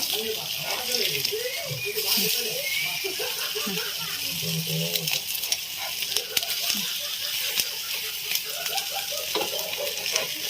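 Shahi kababs shallow-frying in oil, a continuous close bubbling sizzle under steady talk from a person.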